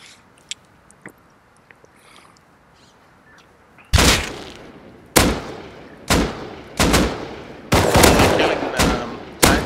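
Gunfire in the video game Rust: after faint scattered clicks, a run of loud, close, sharp shots rings out, about seven spaced roughly a second apart with short tails.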